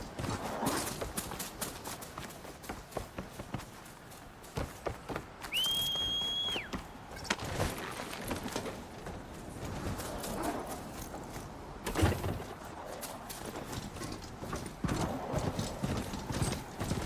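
A ridden horse in Horizon Forbidden West trots along with a steady clip-clop of hoofbeats, joined partway through by a brief whistle and a whinny, all in the foreground.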